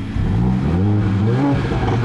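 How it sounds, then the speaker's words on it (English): Mercedes-Benz GLA45 AMG four-cylinder with the AMG Performance Exhaust revving loudly and close, a sustained throaty drone with rising and falling pitch. "my tester actually has the AMG Performance Exhaust"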